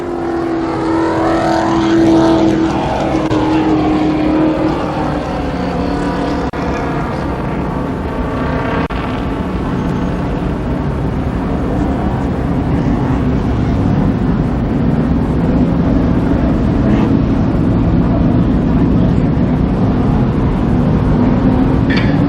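ARCA Supercars race cars circling Columbus Motor Speedway, loud continuous engine roar with rising and falling pitch as cars pass close by, steady throughout.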